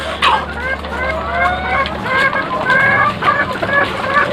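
A flock of 73-week-old laying hens clucking and chattering continuously at close range, with a steady low hum in the background for the first couple of seconds.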